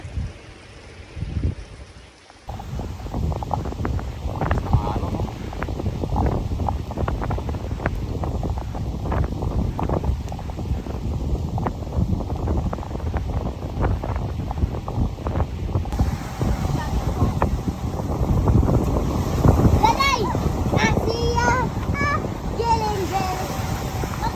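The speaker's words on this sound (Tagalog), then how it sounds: "nagwawala ang dagat" Rough, churning sea with strong wind buffeting the microphone at a Philippine shoreline, a continuous loud roar of waves and gusts, with someone talking over it throughout.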